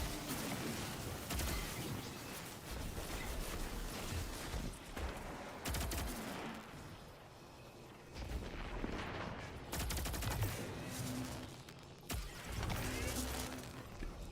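Video game gunfire in the sci-fi shooter Destiny 2, dense rapid bursts of shots and explosive cracks in a loud, chaotic firefight with no clear pauses, fairly close.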